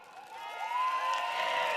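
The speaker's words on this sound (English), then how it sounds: "让我们以热烈的掌声欢迎人民行动党盛港团队。" A crowd at a People's Action Party rally for Sengkang GRC at North Vista Secondary School cheers and whoops as it greets the PAP Sengkang team. The noise swells steadily and stays loud, with shouting voices mixed through it.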